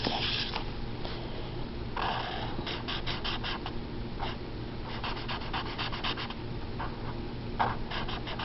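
A marker scratching and rubbing across paper while coloring a digital stamp of a baby bear, with repeated short strokes, close and moderately loud over a steady low background hum.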